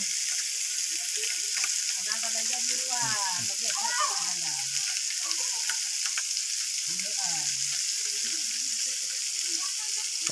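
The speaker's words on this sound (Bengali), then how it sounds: "এইদিকে এটা ভাজা হয়েছে আর এগুলো ভাজা হচ্ছে।" Small fish fry in a pan with a constant, bright sizzle, while voices talk intermittently over the steady crackling.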